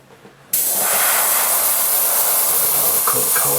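Spray paint hisses steadily from a can onto a foam RC plane under repair, a sudden loud continuous spray starting after a brief quiet moment and holding for several seconds close by.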